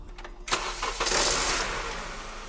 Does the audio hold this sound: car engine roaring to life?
yes